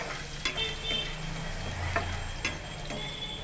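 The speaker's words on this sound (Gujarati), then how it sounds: "રાઈ તતરી જાય એટલે તેની અંદર આદુ લસણની પેસ્ટ નાખી દઈશું" Ginger garlic paste fries in hot oil with crackling mustard seeds and cumin, a steady faint sizzle with occasional soft stirring taps, heard close with no talk.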